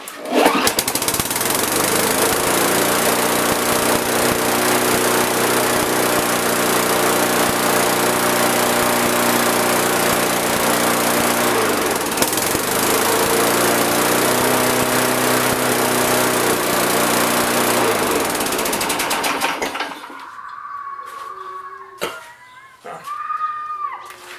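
An old Toro Recycler lawn mower engine runs steadily and loudly after starting, a continuous close drone with a faint oily smokiness condition, cutting off near the end to quieter background sounds and a few knocks.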